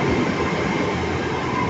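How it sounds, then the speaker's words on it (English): A train rolls past close to a station platform, giving a loud, steady, roaring rumble of wheels and carriages that fills the whole moment without a break. "there's the train over there going to Lynn by the Sea"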